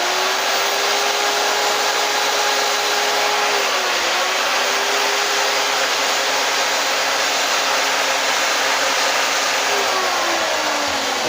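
A chainsaw carves feather detail into a wooden owl, its engine droning loud and close without a break, pitch dipping and rising slightly as the cut loads and eases.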